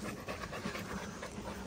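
A dog pants in a forest, rapid rhythmic breaths close by and fairly loud, continuous throughout with no talking.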